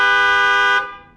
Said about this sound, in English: Okay, now honk the horn.